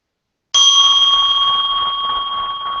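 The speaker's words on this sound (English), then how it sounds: "I'll ring the bell." A single meditation bell struck once during a Zen zazenkai chanting session, ringing out clearly and sustaining a long, steady resonant tone that slowly fades without any other sound.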